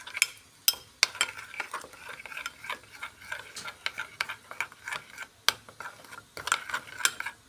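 A spoon stirs and scrapes through a fish marinade of spices, garlic, lemon juice and oil in a bowl, with quick, uneven clinks and scraping taps close by.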